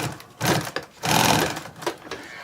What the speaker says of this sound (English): So I'm going to go up, stitch that,